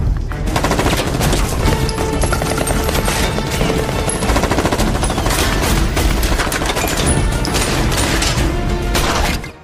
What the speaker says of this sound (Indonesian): anak buah Tony langsung menyerbu tempat persembunyian Charlie dan baku tembak pun tak bisa dihindari